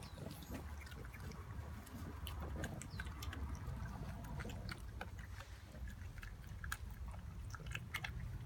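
Two 10-week-old English Bulldog sisters gnaw and crunch on a raw chicken drumstick, a close, continuous run of wet chewing, smacking and bone-cracking bites with irregular rhythm.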